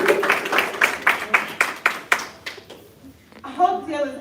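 A short burst of audience clapping at a Kwanzaa celebration, rhythmic and fairly close, fading out before a voice begins speaking at the end.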